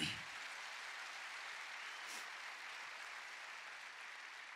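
A church congregation applauds, a steady wash of clapping that holds evenly throughout at moderate distance, with no talk over it.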